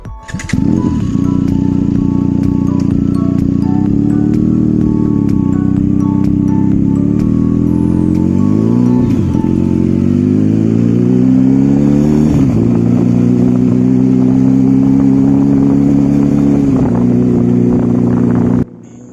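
A Benelli TNT 300 ABS two-cylinder motorcycle engine rumbles steadily while riding, revving up and shifting through gears for nearly twenty seconds, loud and close.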